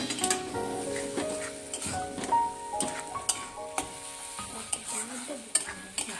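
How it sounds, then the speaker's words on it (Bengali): Prawns frying with coconut milk in a pan for a Bengali prawn malai curry, stirred with repeated scraping strokes over a steady close sizzle, with no talking. "নারকেলের দুধটাকেও দিয়ে অল্প করে ভালো করে কষাতে হবে।"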